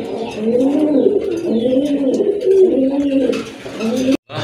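A pair of crested pigeons coo in steady, repeated rolling phrases close by, clear and fairly loud, with faint background noise and a brief cut near the end.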